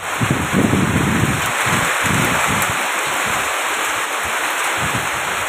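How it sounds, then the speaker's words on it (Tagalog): Heavy rain from Typhoon Enteng pours down in a loud, continuous wash with gusty rumbling low bursts, close and steady throughout with no voices. "pertigay kabasog sang ulan deo"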